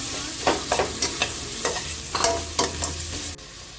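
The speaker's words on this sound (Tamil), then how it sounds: "இப்போது நல்லா இந்த வெங்காயம் நல்லா வதங்கிடுச்சு" Onions sauté in a pan for a chicken gravy. A soft, steady sizzle runs throughout, and a spoon stirs in quick, irregular scrapes and clacks. The sound is moderately close, with no voices.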